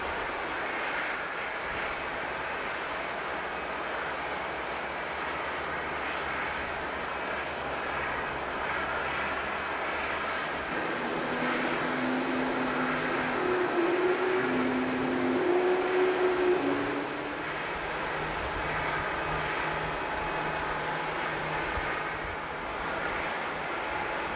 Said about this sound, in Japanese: グランドスタッフに見送られて滑走路に向かう787